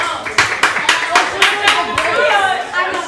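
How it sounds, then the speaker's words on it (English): A small group of girls claps in a burst of separate, uneven handclaps to vote yes, roughly a dozen close claps with voices mixed in. "Who says yes? Clap. Yes. Everyone clap"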